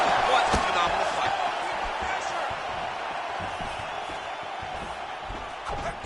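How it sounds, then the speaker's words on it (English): A virtual arena crowd in EA Sports UFC 5 murmurs and swells continuously as fighters trade strikes, with occasional sharp thuds of impacts cutting through the steady crowd noise. "you hear the crowd react every time they come together"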